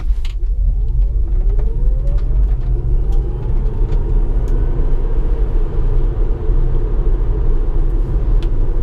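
A Tesla Model S 75D accelerating hard from a standstill to 60 mph, heard from inside as a loud, steady low rumble with a rising electric whine and road noise, without speech.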